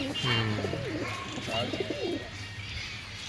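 Domestic flying pigeons coo softly nearby in low, rolling murmurs, with a faint background hum and no clear talk.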